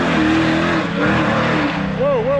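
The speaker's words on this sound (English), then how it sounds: "You got a heavily tuned Cadillac over here. Listen to that sucker." A heavily tuned Cadillac engine revs loudly at a car meet, its low rumble rising and falling under excited shouting and crowd noise, with a higher whine climbing near the end.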